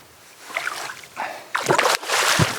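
A big spring pike is let go back into cold water, giving a few close splashes and sloshing bursts that break the surface over a couple of seconds.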